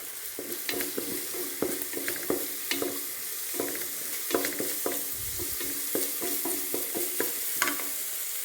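Onion, green chilli, ginger and garlic sauté in a tablespoon of oil, a continuous sizzle broken by frequent scraping and stirring clicks from a spoon against the pan.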